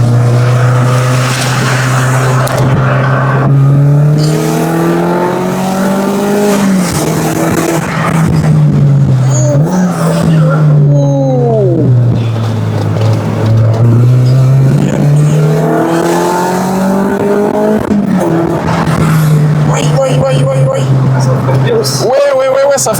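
A car driven hard, its engine loud and close as it climbs and drops in pitch through repeated acceleration and slowing, with a faint squeal now and then.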